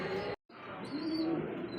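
Pigeons give soft, throaty coos against a constant background hum, broken by a brief moment of silence near the start.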